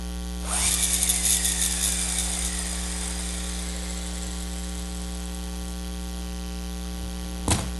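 A Lego Technic Desert Racer's pull-back motor is let go and whirs as it runs. The sound is a bright, buzzy spin that starts loud and gradually winds down, heard over a steady mains hum and ending with a brief knock.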